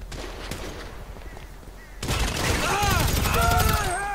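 Gunfire from a shootout at an upscale mall in GTA 5, with a sudden loud burst of dense, rapid shots and booms after a quieter start, crackling on with streaky ricochet-like sounds to the end.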